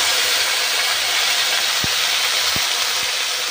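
Whole spices, cumin and ginger frying in hot oil for a curry give a steady, loud sizzling hiss throughout, with a few faint clicks near the end and no voices.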